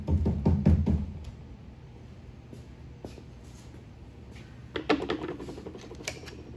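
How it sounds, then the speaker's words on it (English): Built-up debris is scraped out of a Husqvarna 357xp chainsaw, with a quick burst of close clicking scrapes, sparse ticks, then another cluster of scraping taps. "Scrape some of this stuff out over here to the trash can real quick"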